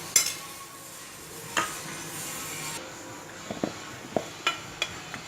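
Spices being stirred into a fish marinade for biryani in a bowl, soft scraping and clicking of a spoon with a few faint taps, quiet and close.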